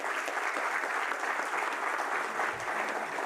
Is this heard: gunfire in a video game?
no